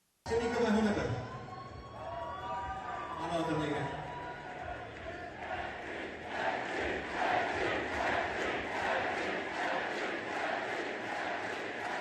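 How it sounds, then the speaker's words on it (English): A live audience at a stage event chants a name in loud, rhythmic unison, rising into a sustained roar of crowd voices and cheering that carries on through the whole stretch. "it happens to be a place where people chanted my name"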